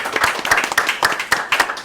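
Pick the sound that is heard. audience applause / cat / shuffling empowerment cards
audience applause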